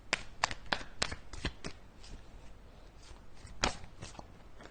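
Tarot-style cards being shuffled and drawn for a card reading, a quick run of crisp riffling snaps followed by softer scattered flicks and slides, close and quiet, with no voices.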